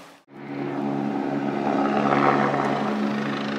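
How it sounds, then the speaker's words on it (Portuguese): A landing helicopter's steady rotor roar fills the scene above a building in the rain, loud and continuous after a brief dip at the start, with a dense broadband whir. "Helicóptero ali a aterrar. Em cima daquele prédio."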